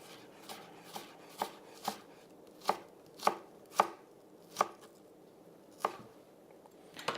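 Knife slicing through an onion on a chopping board, about a dozen crisp, close taps in an unhurried, slightly uneven rhythm, quiet between cuts with no talking.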